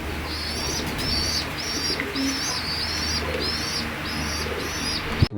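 Pigeons from a club breeding line coo in a steady repeating rhythm, soft and close, one call after another over a low background hum, with a sharp knock at the very end.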